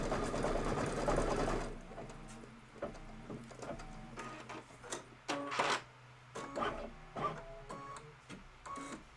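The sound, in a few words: embroidery machine stitching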